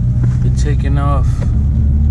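A flood-damaged Mitsubishi Evo with heavy lag hums and rumbles from inside the cabin as it pulls away, a steady loud low drone while a person talks briefly.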